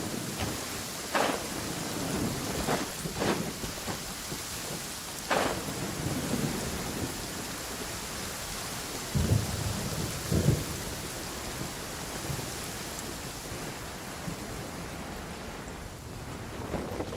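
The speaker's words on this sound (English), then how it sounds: "It's raining again." Rain pours steadily in the Genshin Impact video game, with several deep thunder rumbles and cracks breaking through the constant wash of the downpour.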